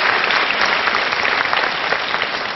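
A studio audience at a Korean lecture show claps for a father and his son, a steady, dense round of applause that stays loud and even from start to finish.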